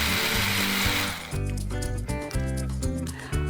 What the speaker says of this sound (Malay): Kisar semua bahan sehingga benar-benar halus.